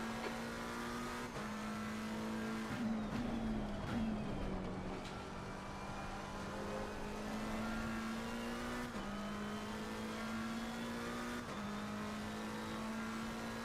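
A race car engine in Assetto Corsa Competizione at Watkins Glen drones steadily at high revs for the whole stretch, with brief dips and shifts in pitch and a short burst of tire noise near the start, heard alone without talk.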